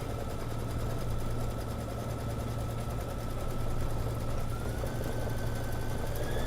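A home embroidery machine stitches a satin-stitch monogram, giving a steady, continuous mechanical whir with a fast rapid-fire needle rhythm and a low hum, even and unbroken throughout with no talking.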